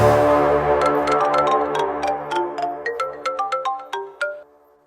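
Telephone ringtone plays as a rising electronic melody of short tonal notes during an outgoing call, loud and alone, stopping before a brief quiet tail.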